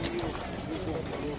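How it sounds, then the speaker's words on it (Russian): Pigeons coo at a busy bird market, a low steady murmur of cooing running under constant crowd chatter and nearby voices. "Такие вот голуби."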